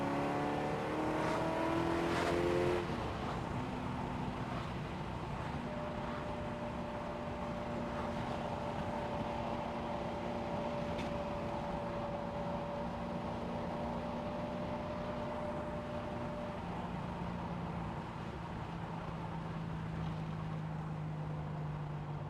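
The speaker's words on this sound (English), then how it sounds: "The idle might need adjusting." Car engine idling steadily after a cold start that had flooded it, with an idle that may be set wrong. A brief louder rev at first settles into a constant hum with faint whining tones, close by and without speech.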